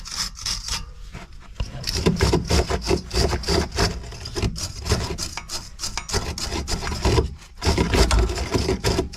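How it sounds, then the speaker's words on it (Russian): Nuts come off a car's suspension stabilizer link, a job where corroded, seized nuts are a stated problem. A wrench gives a dense, close stream of rasping, clicking strokes, steady and loud throughout. "Сейчас будем откручивать эти гайки, снимать эту стойку"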